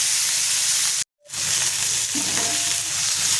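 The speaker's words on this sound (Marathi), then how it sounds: "एक मीडियम आकाराचा टोमॅटो टाकून घेतलाय, ते सुद्धा सॉफ्ट होईपर्यंत आपण परतून घेऊया" Tomato and onion sautéing in a pan, a steady close sizzle with a brief break near the start, then continuous frying hiss with faint stirring.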